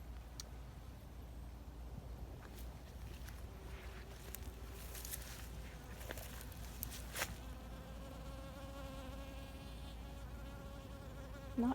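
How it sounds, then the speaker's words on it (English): Pollinator insect buzzing in an Alaskan summer garden with poppies and borage, a steady nearby drone that shifts in pitch as it moves, quiet outdoor background and no speech. "Not too many pollinators this year, but there's one."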